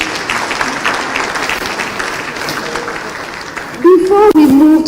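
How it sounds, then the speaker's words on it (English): An audience at a presidential candidates' peace pact signing in Ghana claps steadily in a sustained round of applause, before a voice begins speaking over it near the end. "Another round of applause, please."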